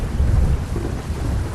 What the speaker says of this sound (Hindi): तेज गर्जन तर्जन होने लगी